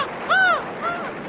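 A crow-like bird sound effect gives one loud, clear caw followed by a shorter, fainter second call, heard alone within about a second.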